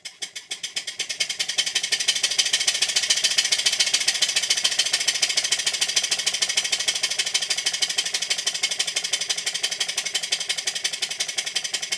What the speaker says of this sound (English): This engine runs very smoothly and quite efficiently as the steam admission is set to early